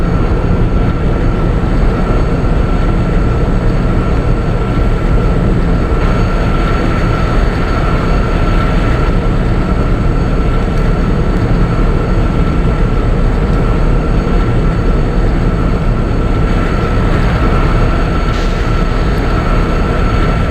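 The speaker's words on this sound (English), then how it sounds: "So one more Memo Express going to its opposite track." A MEMU Express train runs past on the opposite track, giving a loud, steady rolling roar with a sustained tonal whine from start to finish.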